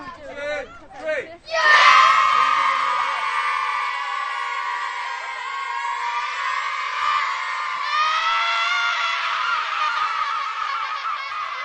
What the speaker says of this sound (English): A big cheer.